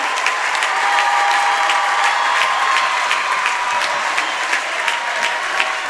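Crowd at a Berks Catholic high school basketball game applauds a player's introduction, steady dense clapping sustained for the whole stretch at even loudness, with no talk over it.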